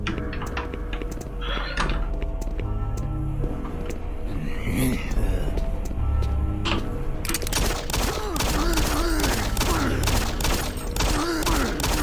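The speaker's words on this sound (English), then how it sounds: "I'm just firing into the darkness. I've actually run out of pistol ammo" Pistol fire in the shooter game Doom 3 crackles through a dense, noisy mix of game sound and speech, with sharp reports scattered across the clip and a busier burst toward the end.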